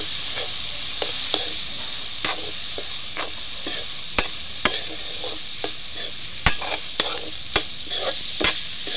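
Goat tripe (boti) frying with turmeric in a pan, a steady bright sizzle broken by repeated sharp clicks and scrapes of a spoon stirring, close and fairly loud with no voices.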